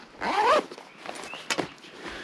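A zip on the leg of an Oxford Montreal 3.0 motorcycle trouser is pulled in a quick, close rasping stroke, followed by softer fabric rustles and a couple of small clicks.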